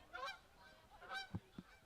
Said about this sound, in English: Got a friendly goose flying by as well, if you can hear that.